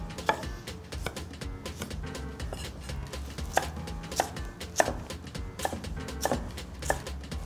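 A knife slicing peeled mango on a cutting board, a run of crisp, close chopping taps in an uneven but steady rhythm with no talking.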